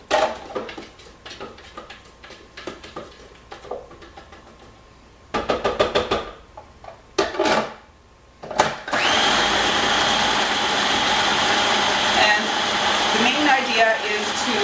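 Scattered clatter and scraping first, then a blender starts whizzing protein pancake batter, loud and steady for several seconds near the end, with speech heard earlier.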